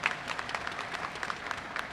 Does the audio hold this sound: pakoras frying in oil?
no